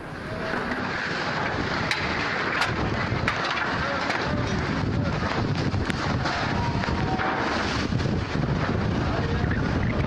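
Strong storm wind tears through a residential area of Tambun Selatan, Bekasi, West Java, wrecking dozens of houses, a loud continuous roaring gust buffeting the microphone, with faint voices and sharp clatters of debris throughout.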